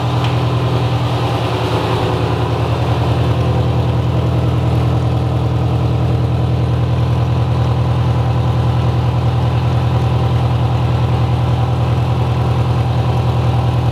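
A car engine idles steadily and close by for the whole stretch, a low even drone with a faint whir on top, running alone without speech while the car is checked for an exhaust leak.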